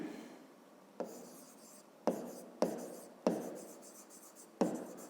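Pen writing by hand on paper during a fifth-grade geometry exercise, labelling triangle vertices: six distinct scratchy strokes starting abruptly and trailing off, close and fairly quiet, with no talking.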